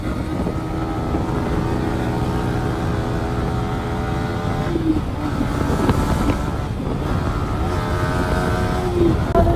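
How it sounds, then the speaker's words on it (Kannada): A vehicle engine hums steadily while being driven along a road in Coorg, heard from inside with road and wind rumble, a loud continuous drone that rises a little toward the end. "ನಮ್ಮ ಹುಡುಗ ಸರಿ ಓಡಿಸ್ತಾವ ನೋಡಿ ಗಾಡಿ"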